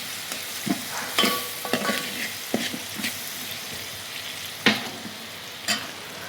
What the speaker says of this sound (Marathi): आम्ही इथे मालवणी भाजका मसाला आम्ही टाकत आहे याच्यामध्ये